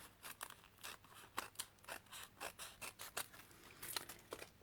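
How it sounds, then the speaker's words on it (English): Scissors snip away excess material in a hand-penned floating frame project, about a dozen crisp close cuts in an irregular rhythm, quiet and with no talking. "So I've literally just cut off"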